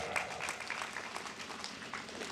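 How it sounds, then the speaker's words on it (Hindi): A gathering at a devotional Hari naam kirtan claps along, a dense, continuous patter of many hands at moderate volume. "तो चले मालिक, ताली बजाकर 2 मिनट हरि नाम संकीर्तन कथा पर आवे"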